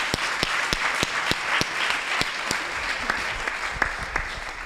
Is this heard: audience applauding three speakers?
yes